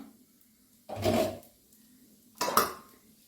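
A metal lid comes off a pot of broken-wheat upma with coconut, giving two short clattering clanks about a second and a half apart against a quiet kitchen background, with no talking.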